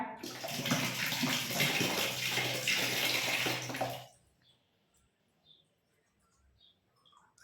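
A tap runs loudly and steadily into a basin for about four seconds while a child rinses out his mouth after brushing his teeth, then the water stops, leaving faint small sounds.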